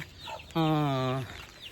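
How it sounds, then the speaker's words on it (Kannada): A single drawn-out, tonal Aseel hen call rings out loud and close for under a second, with quiet farmyard background before and after. "ನೋಡಿ ಸ್ನೇಹಿತರೆ ಇಲ್ಲಿ ಕೋಳಿ ನೋಡಿ"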